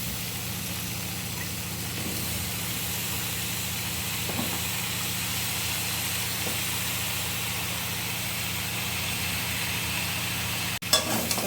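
Potato pieces and drumstick vegetable sautéing in a pan for a vegetarian curry give a steady, continuous sizzling hiss, close and even throughout, with a brief clatter near the end.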